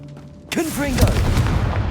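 A Confringo blasting spell bursts in Hogwarts Legacy, a sudden loud boom after a shouted incantation, trailing into crackling debris and rumble.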